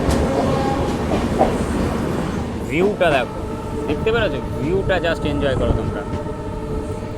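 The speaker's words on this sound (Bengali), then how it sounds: "আর পাহাড়ের মধ্যে দিয়ে ছুটে চলেছে আমাদের ডিজেল লোকোমোটিভ" A diesel locomotive pulls a Garib Rath train through hilly country, its steady rumble and clatter continuous and fairly close, with someone talking over it throughout.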